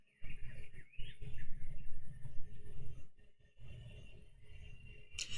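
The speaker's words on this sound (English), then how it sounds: "Those bin chicken birds, man, they are loud. They're screechy." Ibis birds, called bin chickens, screech loudly in the farming game Dinkum, with harsh calls sounding over a steady low background rumble and a sharp, bright cry near the end.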